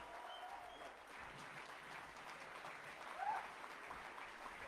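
A crowd at a direct selling event in India applauds continuously, a soft wash of many hands clapping at a distance with a slight swell near the end and no speech over it.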